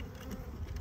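Honey bees leave a 3 lb package with a soft, faint, continuous buzzing hum.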